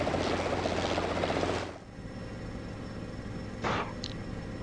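Helicopter engine in ArmA 3 during a Vietnam co-op mission, a loud steady rotor and turbine roar that suddenly drops to a quieter idle hum, with brief bursts of other game noise afterward.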